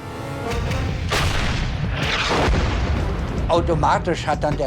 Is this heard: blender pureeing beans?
no